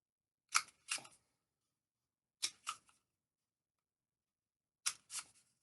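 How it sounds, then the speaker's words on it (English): Three pairs of crisp scissor snips cut through a stiff cardboard toilet roll tube, short sharp crunches separated by pauses in an otherwise silent room. "Get your scissors and cut up to the mark."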